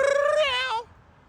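A person imitates a cat with one drawn-out, wavering meow that rises and then falls before cutting off into near silence, close and clear.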